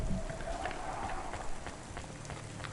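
Steady rain falls in the Cloudpunk video game, a dense continuous hiss of drops spread evenly throughout, with faint low game ambience beneath and no talk.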